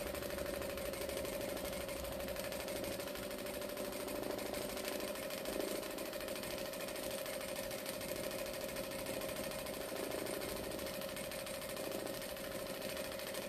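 Sewing machine running at a steady speed before fabric is moved, giving a quiet continuous mechanical hum with a fast rhythmic clatter throughout.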